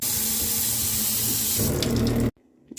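A Zurn faucet with a worn cartridge runs hard with a rushing water stream and a low droning hum from the shaking cold water line underneath, then shuts off abruptly, leaving a few faint clicks.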